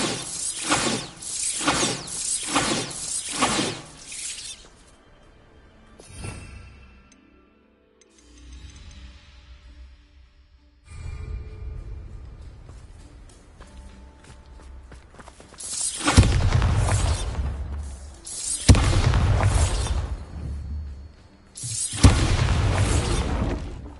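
Repeated Bombarda blasting spells explode in the Hogwarts Legacy video game, bursts of crashing, shattering booms with debris scattering, some fired in quick succession and loud, separated by quieter stretches with no voices.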